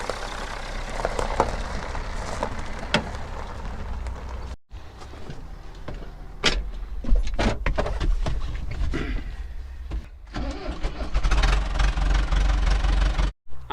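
A farm truck's engine runs while driving out to a tomato field, a mid-pitched knocking hum under rattles and bumps, with two short dropouts and a louder rumble near the end; no one speaks.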